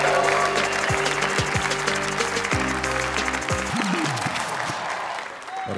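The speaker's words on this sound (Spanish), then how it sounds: "¡Un aplauso para el chaparro!" Audience applause for the comedian Alex "El Chaparro" Salazar at a stand-up comedy show, a dense sustained clapping crowd mixed with loud music, easing slightly toward the end.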